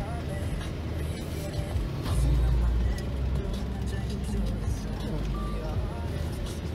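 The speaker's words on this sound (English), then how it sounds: "Oh, watch out, there's a car." A car passes on a road in South Dakota, heard as a broad rumble of road noise that swells for a few seconds, with voices and background chatter throughout.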